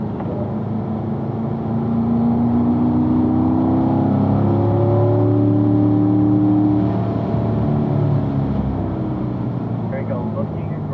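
A car's engine revs and shifts pitch under throttle on a racetrack during a performance driving school session, a steady loud drone with rising and falling tones that runs throughout.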